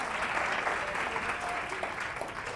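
Applause from a studio audience on a Catalan TV quiz show, a steady, fairly soft wash of clapping lasting the whole stretch, with faint voices beneath it.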